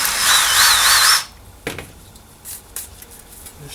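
A power drill chamfers the edge of a small hole in a Torqueflite 727 transmission part from a first-generation Cummins rebuild, giving one loud whirring burst of just over a second, then stopping and leaving faint handling clatter.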